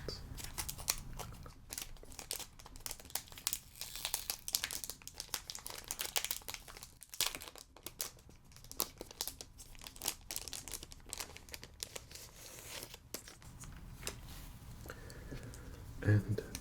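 Tabletop game cards for The One Ring RPG handled in a quiet, cozy setting: a steady run of soft, crisp rustles, taps and crinkles, with a hushed voice faintly beneath.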